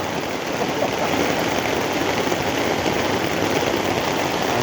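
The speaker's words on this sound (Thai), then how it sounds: "เป็นอุปสรรคกันเนอะฝนตกเนี่ย" Steady, dense rain pattering on a surface, a continuous hiss with no pauses and no voices.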